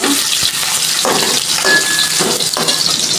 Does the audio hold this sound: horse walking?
no